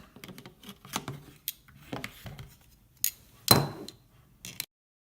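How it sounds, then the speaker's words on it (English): Pliers tighten an Acerbis X Force motorcycle hand guard, making a series of sharp metallic clicks and taps at uneven intervals, close and fairly quiet, with one louder clack near the end. "I'm just going to use a pair of pliers just to tighten it up."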